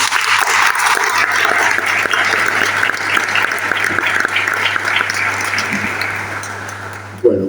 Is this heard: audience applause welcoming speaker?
yes